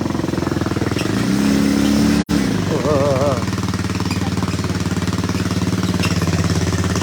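A motorcycle engine runs loud and close with a steady, rough drone that shifts pitch briefly as the gears change down. A voice is faintly heard under the engine.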